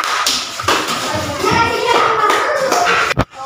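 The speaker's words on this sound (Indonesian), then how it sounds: "Beri tepuk tangan dulu untuk kelompok 2" Children in a classroom clap unevenly for group 2's presentation, a scattered patter of hands mixed with kids' voices talking, ending with a sharp tap or bump.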